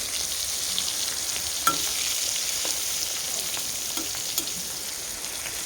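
Cauliflower pieces fry in hot oil with turmeric, giving a continuous moderate crackling sizzle with a couple of sharper pops standing out near the start and middle.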